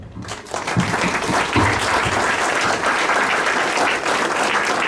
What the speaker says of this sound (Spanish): pido un aplauso para cada uno de ustedes, para el director, para el director del instituto, para todos, por favor